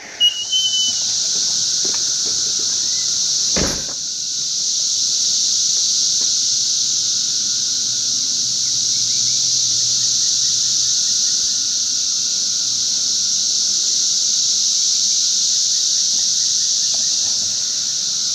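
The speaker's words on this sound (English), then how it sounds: "you hear those things buzzing" Loud, continuous cicada buzzing fills the air, a steady high drone with no pauses, plus a brief sharp click near the start.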